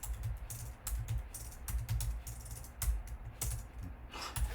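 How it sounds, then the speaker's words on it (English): A computer keyboard is typed on up close in irregular bursts of quick clicking keystrokes with brief pauses, over a low background hum and with no one speaking. "I'm having a hard time typing."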